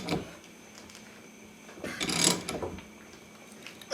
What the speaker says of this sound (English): I can hear it starting to creak.